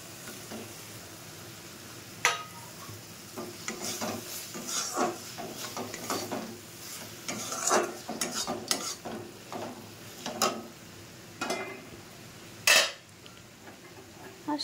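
Prawns going into well-cooked spiced oil for a Bengali prawn bhuna, stirred in a pan: a steady soft sizzle broken by repeated scraping and clinking spatula strokes, close and fairly quiet.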